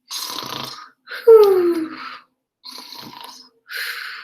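A voice imitates snoring in four rough, breathy bursts with short pauses between them, one rising into a drawn-out rumbling snort.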